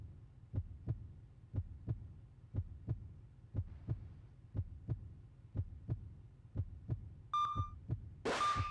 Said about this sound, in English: we just have a heartbeat now. No more music. It's just a heartbeat.